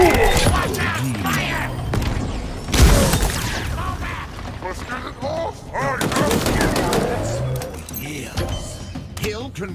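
Gunfire in the Halo Infinite Firefight mode, a busy stretch of shots and bursts with a heavy boom near the start, mixed under frequent game voice lines and player speech throughout.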